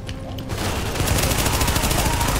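Gunfire in the video game Tom Clancy's The Division erupts in rapid, continuous bursts after a brief quieter moment, loud and close, like an automatic weapon firing in a sustained volley.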